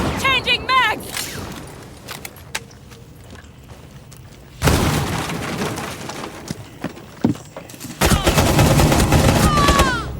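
Bursts of DMR rifle fire in the video game Rainbow Six Siege, sharp, loud shots in separate clusters with game effects between them and no talk over the firing.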